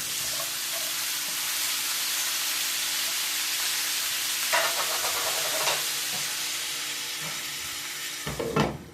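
Peppers sizzle in butter and olive oil in a skillet, a steady broad frying hiss throughout, broken by a few louder bursts as they are stirred and slid around the pan.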